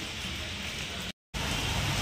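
Heavy rain falling outside a shop, a dense, even wash of noise that fills the clip, broken by a brief moment of silence partway through, no voices.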